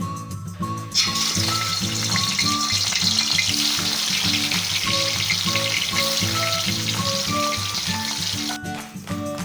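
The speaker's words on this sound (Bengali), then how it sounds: "এক এক করে আমি এখন মাছগুলো ভেজে নেব।" Pieces of rohu fish fry in oil in a wok over a clay stove, producing a loud, continuous sizzle that holds steady for the whole stretch, with a repeating melodic music track running underneath and no talking.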